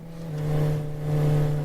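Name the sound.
motorcycle with loud exhaust revving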